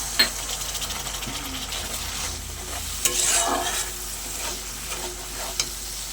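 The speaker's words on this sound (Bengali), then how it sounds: "অল্প একটু জল দিয়ে মশলাটা ভালো করে কষে নেব" Ground spice paste with a splash of water stir-fried for a Bengali fish curry, a continuous close sizzle with scraping spatula strokes against the pan and a few sharp metallic clinks.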